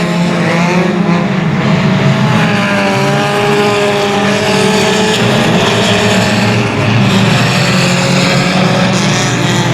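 Race cars lap 281 Speedway in a steady, loud engine roar that drones throughout, several cars running together at close range with no voices over them.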